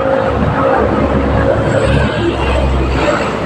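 Road traffic rolling past on a street: a loud, continuous rumble of engines and tyres that stays steady throughout, with no distinct single pass-by standing out.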